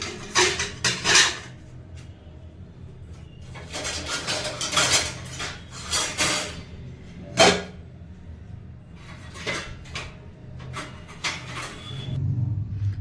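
Kitchen utensils and dishes are moved and set in place, making clattering clinks of metal pots and cutlery with some wooden knocks. The bursts are irregular and close, with no voices over them.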